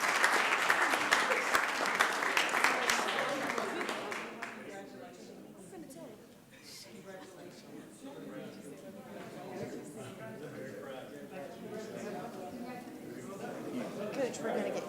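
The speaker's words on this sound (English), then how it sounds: "Well, let's give them another round of applause." A city council chamber audience gives loud applause for a winning girls' team, strong at first and then fading into crowd murmur and voices talking.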